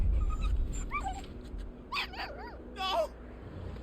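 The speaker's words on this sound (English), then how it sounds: "Puppy." A puppy in the Final Fantasy 16 video game whimpers in several high, wavering yelps and whines spread across a few seconds, mid-distance over a low game rumble, with no one talking.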